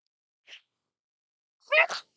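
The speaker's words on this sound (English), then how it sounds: "I'm going to sneeze" A short sharp intake of breath, a pause, then a single loud sneeze bursting out close by.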